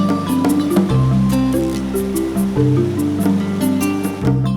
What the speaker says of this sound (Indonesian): Aliran sungai yang membelah lebatnya hutan di lereng Gunung Sanggabuana